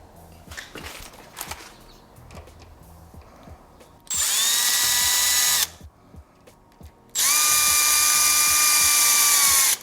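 A power drill drives screws while a smart lock deadbolt is installed, two loud whirring bursts of about a second and a half and two and a half seconds, separated and preceded by quieter clicks and fiddling sounds.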